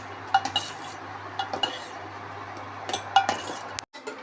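A spoon clinks and scrapes against a metal pot in irregular light taps while stirring brinjal sambar with chilli powder, close by, with no voices.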